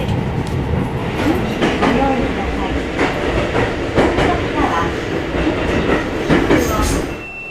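A small rural Japanese train bound for Obama rolls along, heard from inside as a loud, continuous rumble with rhythmic clickety-clack of wheels on rail joints and occasional faint squeals, no voices.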